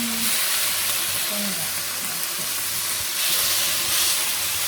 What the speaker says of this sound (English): So you can use SaladMaster for grilling.